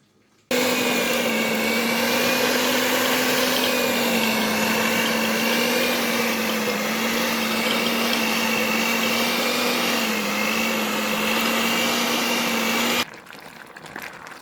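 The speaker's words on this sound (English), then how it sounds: "we are going to cream our butter and sugar right about now" An electric mixer creams butter and sugar for a Jamaican Christmas black fruit cake, a loud steady whirring motor starting abruptly and running continuously for about twelve seconds before cutting off, with no talking.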